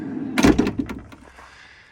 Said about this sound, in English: then we'll open the door here.